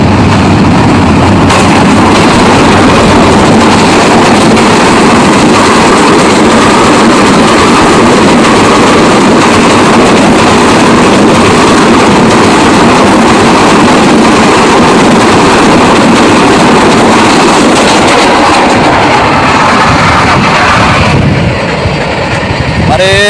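A train passes in a rural setting: a loud, continuous rumbling roar of engine and wheels holding steady for about twenty seconds before easing off, with a voice heard talking over it.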